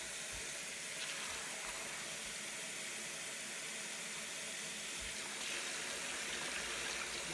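Running water rinsing freshly dyed cotton fabric, a faint, steady hiss of flow that holds unbroken throughout with no voices.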